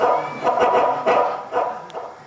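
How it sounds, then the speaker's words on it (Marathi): Dogs barking during a village stage play staged for Gudi Padwa, a series of four or five sharp, fairly loud barks in quick bursts. "अहो, नुसतीच भुंकत असतात."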